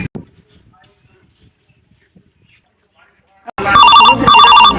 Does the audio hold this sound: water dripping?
no